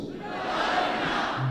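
A church congregation shouts together in one brief, swelling collective roar of many voices, heard at moderate distance.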